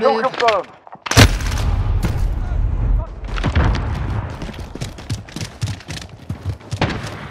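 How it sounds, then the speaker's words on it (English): Grenade blasts and rapid gunfire in Call of Duty Modern Warfare multiplayer, a heavy boom early followed by dense bursts of shots, loud and close, with voices calling out over the combat. "Throwing grenades!"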